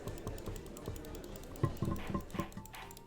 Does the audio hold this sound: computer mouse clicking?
yes